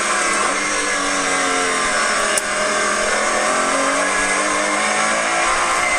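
A race car running a lap through the Wheelie Hill section of the track, held in third gear and kept wide, its engine droning steadily and loudly throughout with a brief sharp blip midway.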